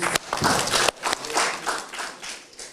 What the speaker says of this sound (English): Round of applause for the meeting